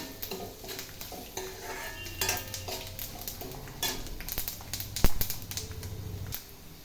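Sesame seeds crackle and pop in a hot pan, with a steady sizzle, scraping stirs and occasional metallic clinks of a spoon against the pan.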